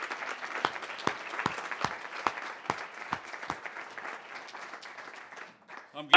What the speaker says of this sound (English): I'm glad to get that applause out front.